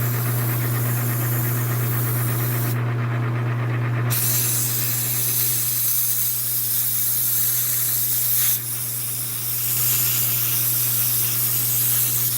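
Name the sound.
aerosol cleaner sprayed to blow off a knurled part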